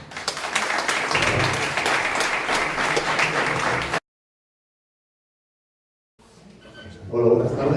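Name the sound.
audience applause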